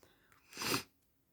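A single sharp human sneeze, close and fairly loud, bursting out briefly after soft breathing and fading quickly into quiet, from someone with an itchy nose and eyes.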